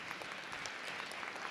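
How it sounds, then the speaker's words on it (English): Applause from an audience at a school district board meeting, a steady crackle of many hands clapping that stays fairly quiet and even throughout, with no voices over it. "So let's give Ms. Jones another round of applause."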